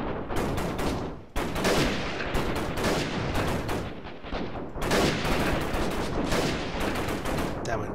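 Dense bursts of gunfire from the guerrilla warfare shooter game Freeman Guerrilla Warfare rattle almost continuously, loud and close, with a brief lull, a few short gaps and heavy overlapping shots throughout.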